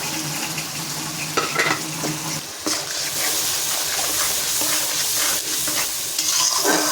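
Oil-rinse water hits a pan of frying curry paste made from garlic, dried chili, tomato, chili paste, onion paste and ginger paste, bursting into loud, steady sizzling while a utensil scrapes and stirs with brief pauses.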